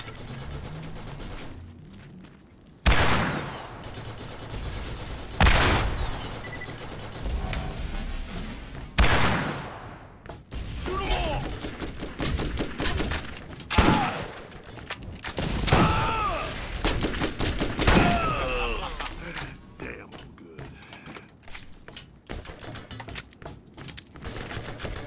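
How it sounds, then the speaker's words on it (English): Rocket launcher firing in the video game Borderlands, with repeated sharp blasts and explosive bursts alongside mechanical clicking and clattering game effects, loud and irregular across the scene. "Jeez, what an annoying rocket launcher."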